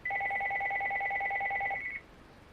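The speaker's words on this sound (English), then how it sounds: "It's my phone." A mobile phone ringtone plays as a steady electronic two-tone ring for about two seconds, then cuts off. Nobody talks over it.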